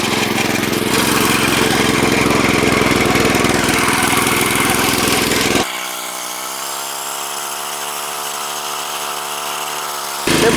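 A walk-behind tractor fitted with a mower attachment runs loud and steady, a dense engine roar that drops to a thinner, lower-pitched running tone partway through once the mower is engaged, then swells again at the end.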